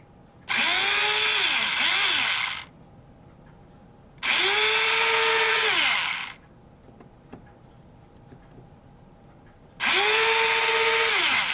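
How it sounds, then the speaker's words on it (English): A power drill drilling out a model ship part, whirring in three separate bursts of about two seconds each, the motor pitch dipping as it bites, with quiet gaps between. "We'll see if we can drill that out."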